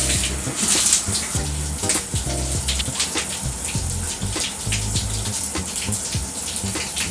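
Shower water runs continuously and fairly loudly in a bathroom during hair washing, with splashing variations as the stream hits surfaces, and no talk over it.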